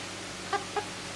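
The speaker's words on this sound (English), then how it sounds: "This is my dad's little Polish frizzle." A hand-reared Polish frizzle chicken lets out two short, soft clucks close by, spaced about a quarter second apart, over a faint steady outdoor hum.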